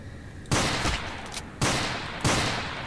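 Gunfire in the FPS video game BattleRush: three loud, sharp shot bursts at roughly one-second intervals, each with a decaying tail, over a constant background hum, with no talking.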